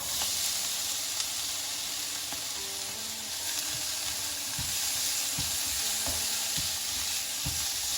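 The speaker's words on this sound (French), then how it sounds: "cuire un petit moment pour que le parfum de oignon et gingembre peut sortir" Onions and ginger frying in a hot pan: a loud, continuous hiss and crackle close up, with a few faint clicks of a utensil and no talking.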